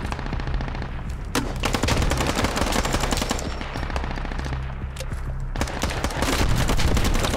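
Gunfire in a shooter video game, with loud rapid volleys and sharp cracks rattling almost continuously, punctuated by a couple of heavier isolated shots.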